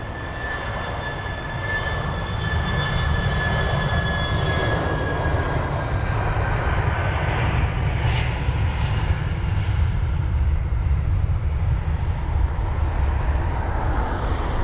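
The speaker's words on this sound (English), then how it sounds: "We have got the BA319 off to Lyon, flight number BA362" A British Airways Airbus A319 jet takes off from London Heathrow, bound for Lyon, as a steady, loud engine roar that holds across the whole stretch, with a thin high whine riding on top for the first few seconds.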